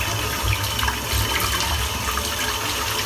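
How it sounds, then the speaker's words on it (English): Water runs steadily from a tap to rinse shaving soap off a boar brush, giving a close, even rushing splash that continues without a break. "We'll get the soap rinsed off."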